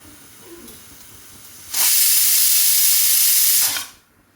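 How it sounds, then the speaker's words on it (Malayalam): Water for rice boiling in a pot gives off a loud, broad steady hiss that starts abruptly, holds for about two seconds and then fades, over a quiet background. "റൈസിന് വെച്ച വെള്ളം നന്നായിട്ട് തിളച്ചു."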